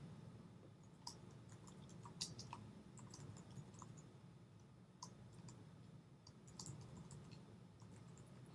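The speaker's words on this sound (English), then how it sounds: "then you can start typing" Soft, sparse keystrokes on a computer keyboard tap out text into an InDesign text frame, faint and scattered against a quiet room hiss with no talking.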